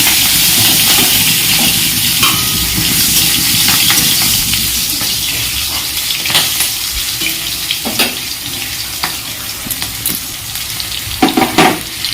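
Green chillies hit hot oil with nigella seeds and fry in a loud, close, continuous sizzle and crackle, with scattered sharp pops and spatters toward the end.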